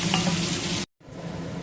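Potatoes sizzle in hot oil with nigella seeds and a pinch of turmeric, a close, steady frying crackle. The sound breaks off for a moment, then resumes softer.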